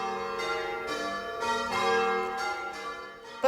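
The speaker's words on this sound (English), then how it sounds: "the bells are once again summoning the villagers to worship" The bells of St Mary Magdalene church in the village of Barkway peal in steady succession, rich overlapping strikes ringing out loud and resonant with no voices over them.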